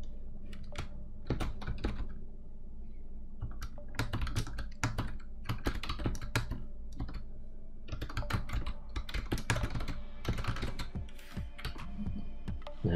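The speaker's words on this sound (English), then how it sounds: "finish typing" Bursts of quick keystrokes clatter on a computer keyboard while typing a Microsoft Word document, irregular runs of taps with short pauses between, close and clear in a quiet room.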